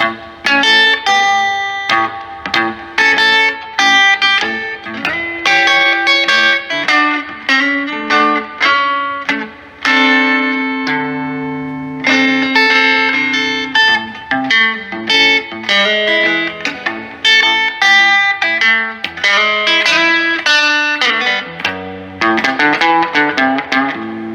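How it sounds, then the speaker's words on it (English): An electric guitar plays a continuous run of melodic notes and chords through a 1968 Gibson Hawk amp, reverb halfway up, tone and volume about three-quarters, with a reverb wash trailing each note. "Here's reverb halfway up, tones about 3/4, and volume about 3/4."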